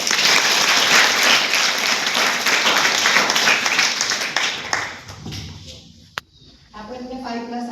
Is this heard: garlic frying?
no